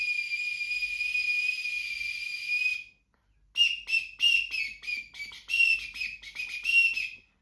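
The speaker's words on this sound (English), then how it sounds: "the Missouri bird whistle, which is an ideal beginner whistle. It's made from solid wood and has a hand-painted bird on top" Missouri bird whistle of solid wood blown close up, first one long steady shrill tone, then after a short silence a run of short chirping blasts in quick succession.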